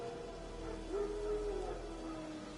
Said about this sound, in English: No. Wild dogs. Yes. More dangerous than wolves.